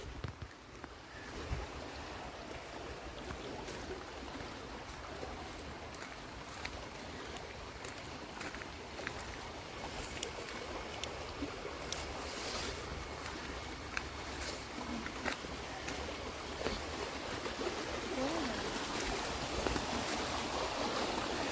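Steady broadband rush of flowing water at a waterfall, continuous and fairly close, with no voices over it.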